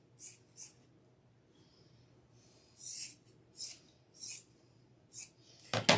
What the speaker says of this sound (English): You can cut off some of the excess fabric that you're not going to use.